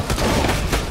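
Weapon fire in Borderlands 2, several heavy booming shots in quick succession, loud and close, over a dense low rumble.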